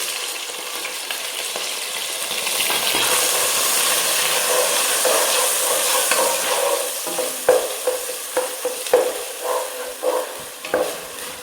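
Ground onion paste sizzles steadily as it fries in a pan of chicken curry, with stirring scrapes and spoon knocks becoming more frequent toward the end; there is no talking.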